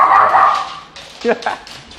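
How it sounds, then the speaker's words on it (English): Dogs outdoors give a few short yips and barks near the end, brief and moderately close, following a moment of speech. "I love the dogs. They're out here."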